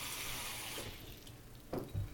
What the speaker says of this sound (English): Take a glass bowl, fill it with water